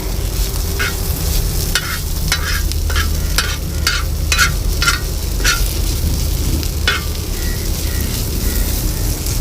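Boiled potatoes stir-frying in a hot pan give off a loud, steady sizzle, with repeated scrapes and clacks from stirring running through it at an uneven rhythm.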